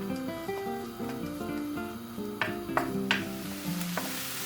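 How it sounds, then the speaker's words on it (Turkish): Chopped onions sauté in a hot pan for an eggplant and beef pilaf, with a soft steady sizzle and occasional stirring scrapes. The sizzle is fairly quiet throughout. "Tavamız ısındıktan sonra soğanlarımızı alalım ve sotelemeye başlayalım."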